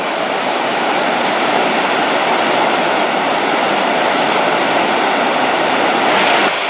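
Small mountain streams run beside a hiking path in Norway, giving a continuous, fairly loud rushing wash of water with no pauses and no talking.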